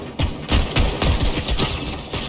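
Rapid bursts of gunfire in the Fortnite video game, several loud sharp shots in quick succession with a shotgun among the weapons, no talking.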